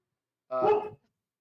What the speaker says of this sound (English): what inspired my dog was there's another dog outside